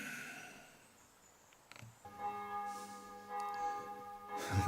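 Church bells ring out from outside a house during finishing work on its beams and floors, starting after a quiet couple of seconds with sustained, overlapping tolls that swell toward the end, heard at a moderate distance.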